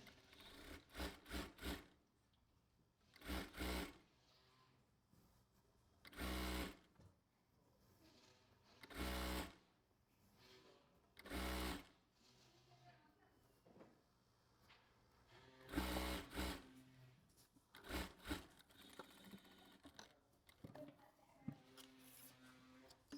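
Sewing machine running in short bursts as it stitches a folded dress sleeve hem at half-foot width, several separate runs of a few seconds each with quiet pauses between.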